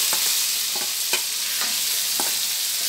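Pork sizzles and fries steadily in a pan with a loud hiss, while a utensil stirs and scrapes in soft repeated strokes during the making of a Thai banana blossom salad.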